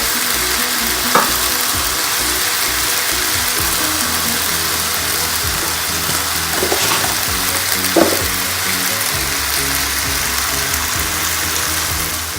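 Onions and fresh coriander fry in a pan for prawn biryani, giving a loud, continuous close-up sizzle with occasional faint stirring scrapes.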